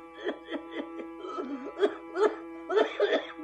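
A singer imitates a cough in a devotional bhajan, with a run of short, rhythmic throaty bursts that grow rougher and louder toward the end, set over a steady musical drone.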